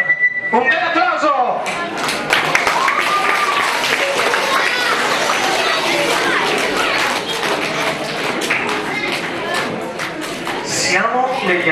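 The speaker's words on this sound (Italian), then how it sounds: "un bel applauso!" Audience applause at a youth football club Christmas party, a broad steady wash of clapping that fills the whole stretch with scattered sharper claps and voices mixed in.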